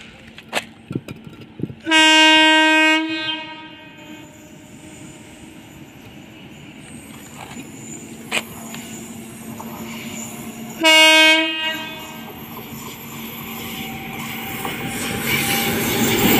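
Train horn blasts twice near a railway track, each a loud, harmonic tone lasting about a second, with clicks and rumble between them and a growing roar of the approaching train toward the end.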